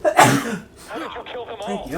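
A single sharp sneeze bursts out near the start, close and loud, followed by a person speaking briefly.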